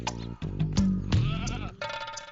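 A goat bleats loudly and close by, one long wavering cry followed by a shorter second call, heard on its own without talk.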